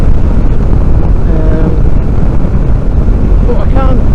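Steady, loud wind buffeting roars over a Benelli TRK 702 motorcycle cruising at about 70 mph with the engine holding 5,500 rpm, a dense continuous rush filling the whole stretch with faint engine tones beneath.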